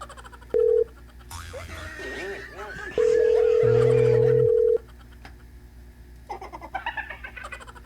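Telephone keypad tones and a steady call tone sound as someone redials a number to call someone again, with a short beep, then a long held tone and lower buzzing, with a voice and background noise around it.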